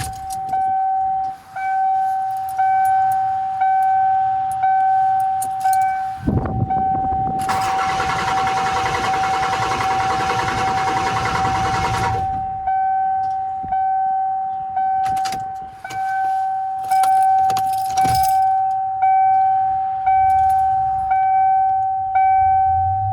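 A Ford F250's 7.3L Powerstroke diesel engine idles with a steady hum and clatter, then revs hard for several seconds before settling back to idle, with faint clicks and clunks throughout.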